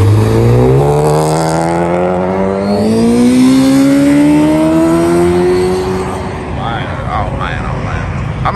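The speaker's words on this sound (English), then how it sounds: "Let's see if this Civic is gonna boost." A Honda Civic at a car meet revs hard, its engine note climbing steadily in a long loud pull that builds boost before easing off, with crowd and street noise around it.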